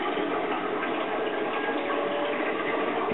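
Water keeps rushing and churning in a 240-gallon home aquarium display as its level drops after the pump is shut off, a loud, steady, close wash that never lets up.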